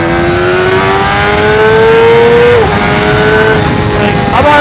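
A motorcycle accelerates hard at high revs up to around 170 kph. The engine whines loud and close and climbs steadily through the gears, with brief dips at each shift.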